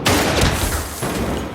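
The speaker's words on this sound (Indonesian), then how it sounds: "Shin bangkit yang kemudian menembakkan pistol ke arah Choi meskipun tidak mengenai dirinya." Pistol gunfire in an action film, a burst of close, loud shots cracking out in quick succession over a dense, noisy score and sound effects.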